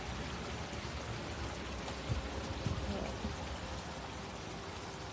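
Water flowing through a culvert and heading toward a river, a steady broadband rushing and trickling that stays even throughout, close by, with a few faint knocks underneath.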